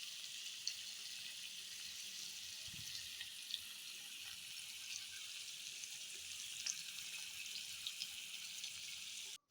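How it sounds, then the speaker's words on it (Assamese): Paneer shallow frying in a pan, a steady soft sizzle that holds without pause, fairly quiet and close. "যিহেতু মই এতিয়া পনীৰখিনি ফ্ৰাই কৰিম, শ্বেলো ফ্ৰাই কৰিম।"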